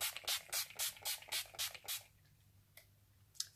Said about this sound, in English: So you spray it about this distance away from the face